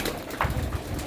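An old-breed Sialkoti rooftop pigeon gives brief, soft coos, close by against a faint background hum.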